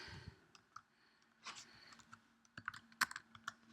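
A terminal command being typed on a computer keyboard, quiet irregular key clicks in short bursts, with a louder cluster of keystrokes near the end, close and alone without talk.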